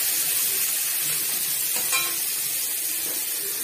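Onions fry in hot oil with a steady close sizzle and hiss, a spatula stirring them lightly with a brief scrape partway through; no talking.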